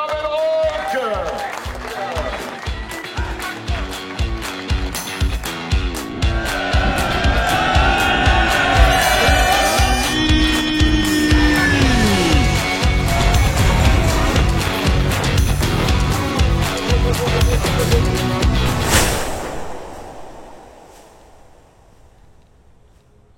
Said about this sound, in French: on les applaudit bien fort, les 3 meilleurs du Canyon Gravel Rock